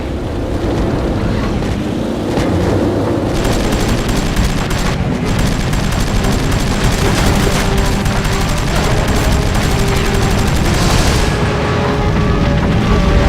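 Gunfire and explosions in the Heroes over Europe air combat game, a dense, loud continuous barrage of booming fire and rumbling under a constant roar, with no talking.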